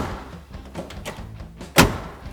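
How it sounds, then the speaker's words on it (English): A car door on a 1970 Chevrolet Chevelle SS454 shuts with one solid, loud thump near the end, after a stretch of quieter handling noise. No one speaks. "you're not going to get the sound of a door that doesn't have 3 rattles when the window closes"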